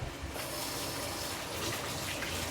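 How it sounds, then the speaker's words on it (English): Tap water runs in a steady, gushing stream as a hand is rinsed after handling swordfish, a continuous close splash with no talking. "Let me just rinse my hand off."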